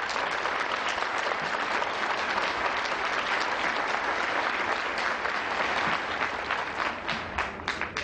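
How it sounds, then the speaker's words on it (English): A large audience at a taiko drum team performance gives loud, dense applause for the international committee, a continuous wash of clapping that lasts about eight seconds and begins to thin slightly near the end. "I'd like to give you a round of applause."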